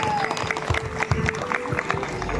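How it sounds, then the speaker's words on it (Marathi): Women at a Bhandari community haldi-kumkum gathering playing the Paithani game clap steadily in a crowd, with scattered claps and voices talking over them. "आणि एकदा जोरात टाळ वाजव या सगळ्यांसाठी"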